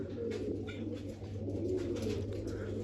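Pigeons coo in low, soft repeated calls over a steady low hum, close by and without talk.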